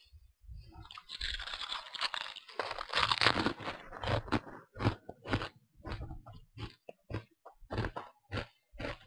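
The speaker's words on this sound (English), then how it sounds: "And I'm eating some crisps." Crisps being eaten close to the mic, with loud crinkly crunching at first, then a steady run of sharp, evenly spaced bites and chews.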